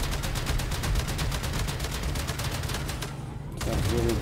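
Rapid automatic gunfire in the game Warframe, shooting at an enemy ship, a fast, steady stream of loud shots that breaks off briefly near the end and then resumes, with a voice faintly underneath.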